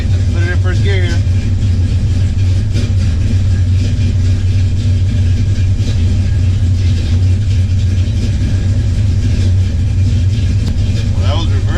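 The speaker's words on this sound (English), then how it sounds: "This is what a 396 cubic inch big block Chevy sounds like, with a nice cam and aluminum heads, shorty headers, and 3-inch exhaust" A 1966 Chevelle SS with a 396 cubic inch big block Chevy V8, a nice cam, aluminum heads, shorty headers and 3-inch exhaust with an H-pipe idles with a loud, steady, lumpy rumble that carries on throughout, close up.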